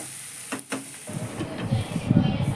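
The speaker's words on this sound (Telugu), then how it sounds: "బాగా ఉల్లిపాయ ముక్కల్ని ఫ్రై చేసుకోవాలి" Onion pieces fry with salt in a pan, a short, close sizzle and crackle that grows louder after a couple of brief clatters at the start.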